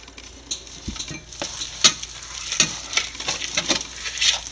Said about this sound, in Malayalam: നല്ലപോലെ അങ്ങോട്ട് എല്ലാം കൂടെ കൂട്ടി യോജിപ്പിക്കുക